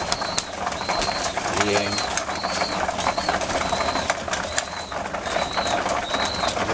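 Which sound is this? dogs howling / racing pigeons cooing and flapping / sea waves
racing pigeons cooing and flapping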